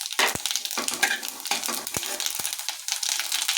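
Panch phoron spices with bay leaf and dried red chillies hit hot oil, crackling and sizzling in uneven bursts, with sharp spatula or pot clinks mixed in, close and loud, nobody speaking.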